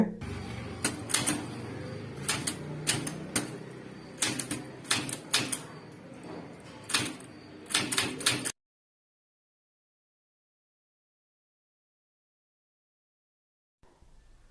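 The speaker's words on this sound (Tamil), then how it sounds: "அதை வந்து டைப் பண்ண போகிறீங்க" Manual typewriter keys strike in irregular bursts during an English typing lesson, sharp close clacks for about eight seconds, then near silence until a faint noise at the very end.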